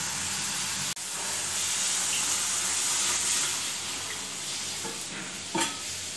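Spices and red chilli powder frying in oil in a pan for a drumstick dal, with a continuous close sizzle, light stirring, a sharp clink near the start and another utensil knock toward the end.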